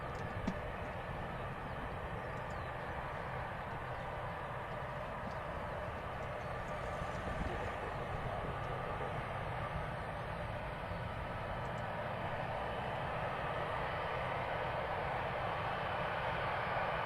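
A Boeing C-17 military transport aircraft flying head on gives a steady, loud, broad engine roar that holds evenly throughout without fading, with no voices.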